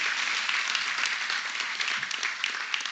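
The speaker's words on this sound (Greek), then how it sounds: "παρακαλώ το πιο δυνατό σας χειροκρότημα" Audience at a Greek women's entrepreneurship network stage performance bursts into loud, sustained applause, dense steady clapping filling the room with no voices over it.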